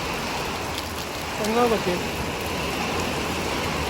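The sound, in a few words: heavy rain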